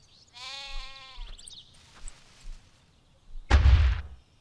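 In the video game Black & White, a cow gives a drawn-out, wavering moo, followed by softer ambient noise and a sudden loud thump near the end.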